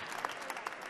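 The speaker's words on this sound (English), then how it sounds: "Can we have an applause for our volunteer timekeeper here?" Brief, fairly quiet burst of audience applause at a science slam event, greeting a volunteer timekeeper; scattered claps over a short second with no talk.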